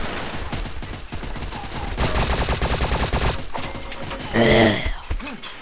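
Rapid bursts of automatic gunfire ring out in a shooter video game, with dense volleys, a louder sustained barrage in the middle and a short vocal gasp near the end.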